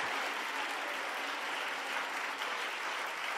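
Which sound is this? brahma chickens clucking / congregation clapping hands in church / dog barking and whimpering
congregation clapping hands in church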